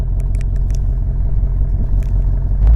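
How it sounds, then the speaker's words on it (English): A Ford Mustang Dark Horse engine, remote started and revved, a loud low steady rumble up close with a few short clicks near the start and a heavier surge right at the end. "press lock and press remote start twice, and it starts. Then you can rev it."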